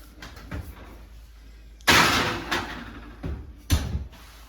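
An oven door is handled as pumpkin applesauce muffins go in to bake, with a sharp loud bang followed by rattling clatter, then a second thud near the end, all close in a quiet kitchen.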